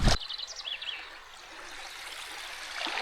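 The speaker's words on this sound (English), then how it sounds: "Walking in the river water, it's deeper than I thought it was." River water flows and trickles softly around someone wading through a deep, warm stretch near Crummock Water, a faint, continuous babble with a sharp splash at the start and a few distant bird calls.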